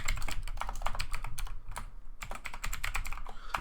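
Rapid, close keystrokes rattle on a computer keyboard in a dense, uneven stream of clicks with a brief pause midway, and no voices.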